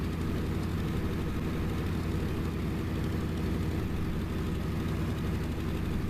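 A piston aircraft engine drones steadily and loudly during a carrier deck approach in IL-2 1946, a continuous low propeller rumble with no clear change in pitch.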